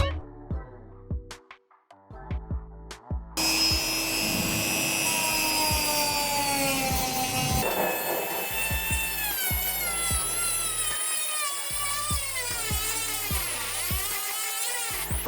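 A high-pitched rotary sander whines continuously against a running shoe's rubber outsole, shifting in pitch, with rhythmic thumping beats underneath and a few taps at the start.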